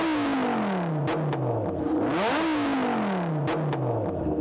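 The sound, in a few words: V10 car engine revving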